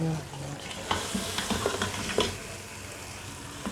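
Masala for mutton paya sizzles as it fries in a pot, a steady close hiss with intermittent scraping stirs and clinks of a spoon against the metal.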